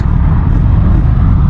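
Kawasaki Vulcan 900 Classic LT cruiser motorcycle riding at speed in fifth gear, a loud steady low exhaust rumble from the pipes with wind noise, brief and continuous.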